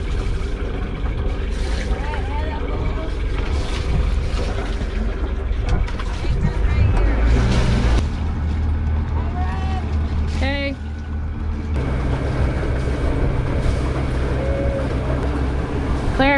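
Sailboat under way on a sunny day near Rum Cay, with steady wind and water rush over a low engine-like hum, while people talk intermittently throughout.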